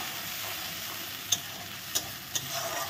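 Ginger, garlic and green chili frying with onions in a pan, a soft steady sizzle throughout with three sharp clicks of a stirring spoon against the pan, no voices.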